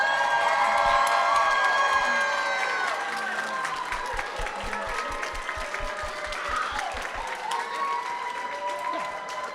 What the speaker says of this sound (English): Product Tech is, round of applause